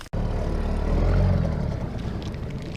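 An outboard motor on a small fishing boat starts abruptly and runs with a close, steady low drone that swells briefly and then settles.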